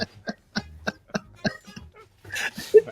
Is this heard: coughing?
yes